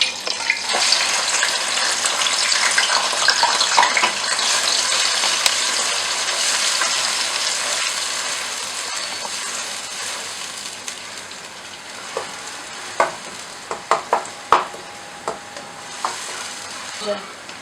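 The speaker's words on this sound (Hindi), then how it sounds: "अब इस प्याज और टमाटर को हम अच्छी तरह से ऑयल में फ्राई कर लेंगे" Chopped onion and tomato frying in hot oil for daal kadu, a loud close hiss that fades somewhat over time, with sharp spoon clicks against the pan growing frequent toward the end, no talking.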